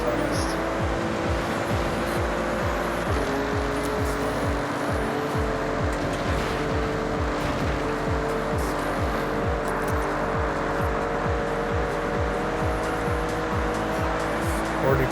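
In the Forza Horizon 6 racing game, a race car engine revs hard and continuously, with rhythmic gear-shift surges and intermittent tire squeal. Other cars are audible around it and a voice talks faintly underneath.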